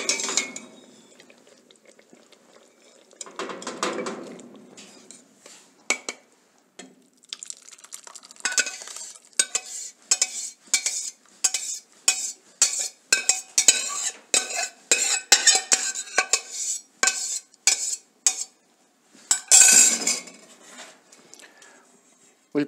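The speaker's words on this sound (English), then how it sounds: "We'll press it with a spoon." Thickened tomato sauce is pressed through a fine strainer with a spoon, giving a fast run of close metallic scrapes and clinks, with brief pauses between bursts and a louder scrape near the end.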